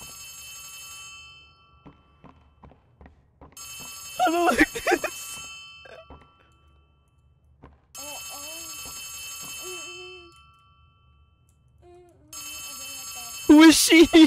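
Phone ringing inside the horror video game Poppy Playtime Chapter 3: bursts of a bright electronic ring in three or four separate spells, with short pauses between them and quiet game sounds in the gaps.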